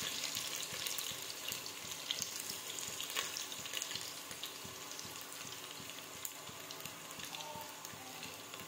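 Garlic and dried red chillies fry in a pan, giving a soft, continuous sizzling hiss with faint crackles throughout, fairly quiet and close, with no one talking.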